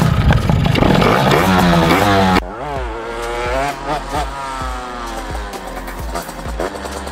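A small XP6 motorbike engine snarls loudly up close, then revs and climbs through rising pitch sweeps as the rider pulls away, buzzing steadily with repeated throttle changes.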